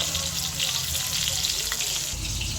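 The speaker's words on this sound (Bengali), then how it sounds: "এদিকে মাছটা ভাজা হোক" Fish frying in a pan gives a steady, loud sizzle and crackle that runs throughout without pause, with no voices over it.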